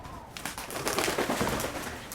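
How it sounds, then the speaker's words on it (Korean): Pigeons in a Korean film scene, with a soft flurry of wingbeats and rustling building over a windy background and continuing steadily to the end. "수경과 통화하는 동안 난장판을 만들어 놓은 바람과 비둘기"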